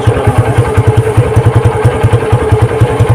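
Exhaust from the silencer of a used 2021 Suzuki Gixxer Monotone motorcycle puffs at idle in a loud, close, regular chugging beat with a light mechanical clatter behind it.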